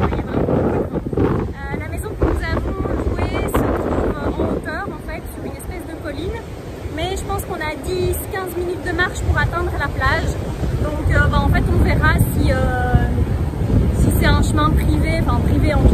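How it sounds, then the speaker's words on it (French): Strong wind buffets the microphone with constant rumbling roar while ocean waves wash onto a beach below a hillside, the surf hissing steadily; faint voices murmur beneath the noise. "le bruit des vagues et le bruit du vent"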